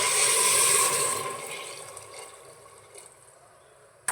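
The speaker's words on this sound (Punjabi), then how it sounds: "3 ਕ ਗਲਾਸ ਪਾਵਾਂਗੇ ਗਰਮ ਕੀਤਾ ਹੋਇਆ ਪਾਣੀ ਪਾਵਾਂਗੇ" Heated water is poured into a pressure cooker holding black chickpea curry, a loud rushing pour at first that tapers off to a quieter trickle, ending with a brief clunk.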